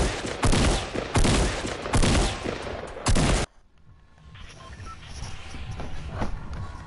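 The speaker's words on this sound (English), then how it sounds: "I shot 30 AR bullets into that and 6 tactical shots into that." Assault rifle and tactical shotgun fire hits a gate in Fortnite in four loud, dense bursts of shots, then cuts to a quiet stretch of faint game ambience.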